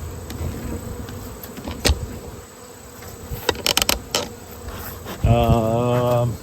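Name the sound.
bees at a beehive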